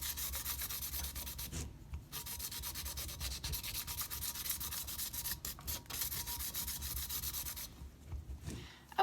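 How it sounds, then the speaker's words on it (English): A glitter tumbler coated in epoxy is hand-sanded in steady back-and-forth rubbing strokes, close and continuous, with a couple of brief pauses where the sandpaper lifts off, and no talking. "So I just give it a good sanding all the way through."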